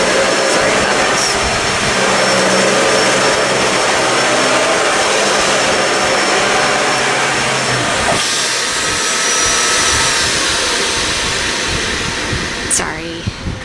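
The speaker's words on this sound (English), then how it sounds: "my dad was vacuuming" A vacuum cleaner runs nearby as a loud, steady broadband roar and hiss that fills the whole stretch, shifting slightly in tone partway through.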